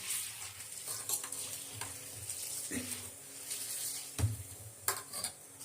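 Raw ration rice with a handful of rock salt is scrubbed and rubbed by hand in water, giving a close, gritty swishing and rasping with wet splashes and a few sharper knocks of grain and vessel.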